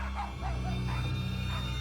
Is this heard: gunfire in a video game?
no